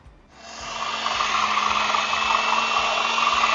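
Food processor chopping minced meat for kofta: a steady, loud whirring motor starts abruptly and runs continuously at an even pitch with no talking.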